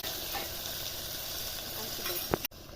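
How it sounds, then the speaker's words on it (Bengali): Handi chicken cooks in a clay pot, a soft continuous sizzle with faint scraping as a wooden spatula stirs the meat, quiet and close, ending with a brief clunk before it drops away. "এই মাটির হাঁড়িতে এই কাঠের খুন্তি দিয়েই রান্না করি"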